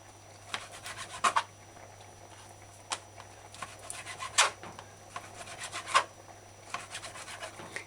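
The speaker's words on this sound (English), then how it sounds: "if you keep your finger down on the beef and get a very sharp knife and cut the meat as fine as you can get it" A very sharp knife slices beef into thin strips for a pepper steak onion stir-fry, giving soft, close rasping strokes against the board in an uneven rhythm.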